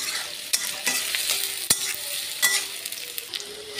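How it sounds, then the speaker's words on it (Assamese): Soybean chunks fry and sizzle in a pan, stirred with a utensil that scrapes and clacks a few times over a steady close hiss, with no voices. "এতিয়া চয়াবিনটো ৰঙা হোৱালৈকে মই ভাজি"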